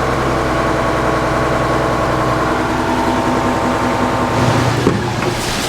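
A big grain auger runs near idle while unloading beans into a trailer, giving a steady, low engine drone with mechanical hum that swells briefly near the end, with no talk.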